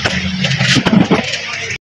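Motorcycle engine cranked and fired up by a mechanic, a short loud burst of sputtering engine noise that catches briefly and then cuts off abruptly, no talk.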